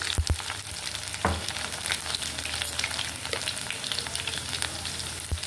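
Crushed garlic cloves fry in hot oil with dried chillies, mustard seeds, cumin and turmeric, a close steady sizzle with occasional sharp crackles and stirring scrapes and no talk.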